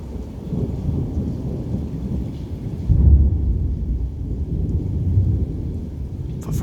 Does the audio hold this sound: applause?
no